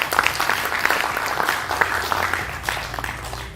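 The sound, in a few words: audience applause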